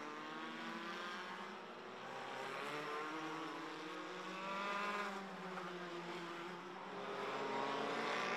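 Formula 4 race cars at Padborg Park in the Danish Championship drone past at speed, a steady high engine whine that rises and falls as they pass, no talk.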